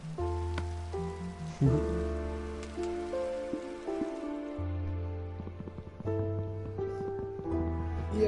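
Video game rain makes a soft continuous hiss beneath steady background music that carries the clip, with no talking.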